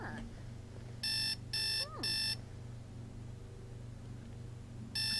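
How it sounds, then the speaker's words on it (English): An alarm clock in The Sims video game goes off with three short, loud electronic beep bursts in a quick regular rhythm, then another burst begins at the end, over a quiet background with faint speech. "our alarm is going off."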